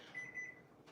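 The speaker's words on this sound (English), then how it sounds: "Sorry for the beeps." A kitchen appliance beeps twice in quick succession while corn muffins bake, short faint electronic tones in a quiet room.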